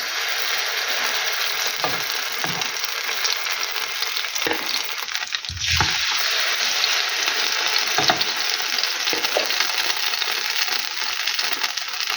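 Ukrainian potato pancakes (deruny) fry in a pan, a loud, continuous close sizzle with a few dull knocks and scrapes as they are turned, and no one talking.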